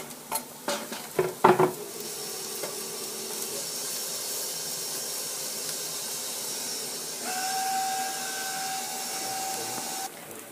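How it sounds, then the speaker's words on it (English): Onions sizzling and browning in a pan, a steady close hiss of frying after a few clattering knocks at the start, continuing evenly to the end. "We'll put the onions on for a little while."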